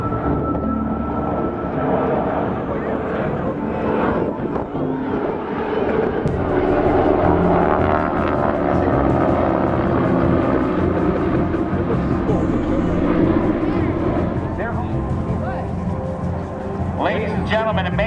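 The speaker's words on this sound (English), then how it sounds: "Here comes the C-130 Hercules." A C-130 Hercules propeller aircraft drones steadily overhead at an airshow, a loud continuous roar lasting throughout, with an announcer talking over the engine noise.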